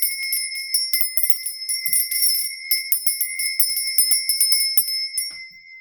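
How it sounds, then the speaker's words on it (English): A small bright bell is rung repeatedly in quick irregular strikes, each ring sharp and ringing on, close and loud with no voices. "turn down the volume if the sound of the bell was too much for your ears"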